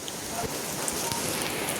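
Steady rain falls outside, a dense, even patter of drops that holds at a constant moderate level for the whole stretch, with no voices over it.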